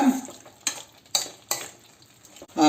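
Chicken is stirred with a spice paste in a hot pan. A low sizzle runs throughout, broken by four sharp scraping strokes of the spoon at uneven intervals, with no speech.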